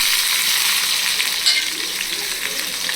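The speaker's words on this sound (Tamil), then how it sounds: "ஆனியன் வதங்கட்டும்." Chopped small onion frying in hot oil in a kadai for vendakkai poriyal, a loud, steady, bright sizzle, close up and continuous, with faint stirring and no speech.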